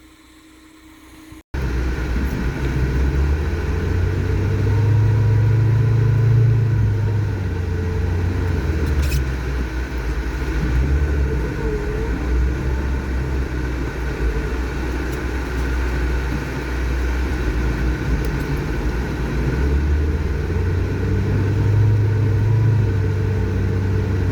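A Lada Niva engine labours in a long, steady low rumble while climbing a steep, deep-snow mountain road, straining continuously after a brief quiet start, with no talk.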